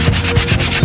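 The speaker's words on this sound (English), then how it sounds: "The top piece here needs a little bit of sanding" Sanding a glued top piece of a Hot Toys Boba Fett throne base, close rhythmic rasping strokes at a quick even pace, about four passes, loud and with no talk.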